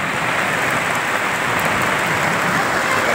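Heavy rain pours down in a dense, steady roar that holds at one level throughout, close and loud, with no voices heard.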